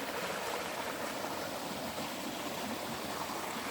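A brook in the woods of Northern Maine on a hot day flows with a continuous, even rushing hiss, soft and steady throughout, with no voices.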